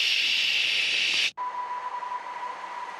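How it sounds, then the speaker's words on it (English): Sonified activity of a dead cell comes through as a steady, bright white-noise hiss that cuts off abruptly, followed by a quieter hiss with a thin sustained tone. "if you look at a dead cell, for instance, you will effectively hear something like a white noise"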